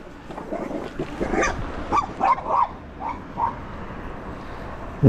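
Dogs bark and yip excitedly at a passing Jetson Haze folding electric bike, a flurry of close, loud barks clustered in the middle over outdoor road noise.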